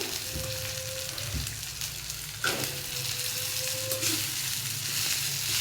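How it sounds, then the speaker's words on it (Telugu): Smashed idli being tipped into upma and stirred in a pan, giving a steady sizzle with a couple of sharper scraping thumps from the spoon. "ఇప్పుడు ఈ స్మాష్ చేసిన ఇడ్లీని కూడా వేసేస్తున్నాను"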